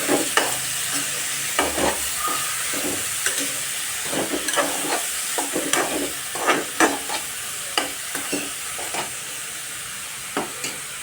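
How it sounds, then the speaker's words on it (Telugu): Pieces of ash gourd frying in oil in a pan, a steady bright sizzle with scattered crackles and pops throughout, close and continuous with no talking. "ఆమ్లీ పీసెస్ కూడా ఆయిల్ వేసుకుని వేయించుకుంటున్నాను"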